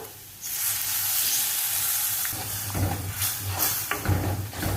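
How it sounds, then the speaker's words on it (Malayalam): Squeezed tamarind juice poured into a hot pan of spiced, sautéed ingredients bursts into a loud, hissing sizzle that lasts throughout, with a few soft stirring clinks near the end. "നമുക്കിതിലേക്ക് ഒരു നെല്ലിക്ക വലിപ്പത്തിൽ പുളി പിഴിഞ്ഞത് ഒഴിച്ചു കൊടുക്കാം."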